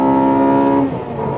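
Honda Integra DC5 engine under way on a road drive, a loud, close tonal drone with strong harmonics that holds steady then drops in pitch as revs fall, with no talking.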